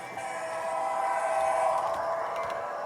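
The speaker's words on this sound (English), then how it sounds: "it's going to come through the tunnel approaching Bayside yard." HO scale model SD70MAC diesel locomotive rolling through a tunnel on a model railroad as it approaches a yard, a steady, fairly loud whirring hum with a faint whistle-like tone that holds throughout, with no voices.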